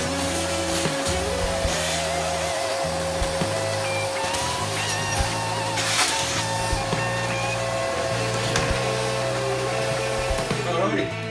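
A vacuum cleaner fitted with a home-built cyclonic dust separator drones steadily and loudly throughout, with a constant motor whine, rattling low-end churn and faint clatter of debris, before cutting off near the end.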